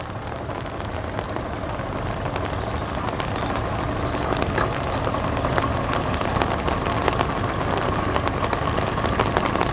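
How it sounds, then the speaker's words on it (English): Heavy rain pours steadily at a marina dock in Miami, a dense continuous patter with occasional louder drops, loud and close throughout. "What is up with this rain, bro? This is crazy."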